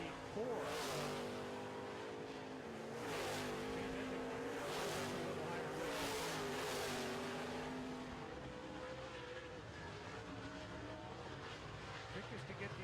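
Late model race cars circling a dirt track marked with tractor tires, engines droning and swelling in repeated passes at moderate distance, with a commentator talking over the noise throughout.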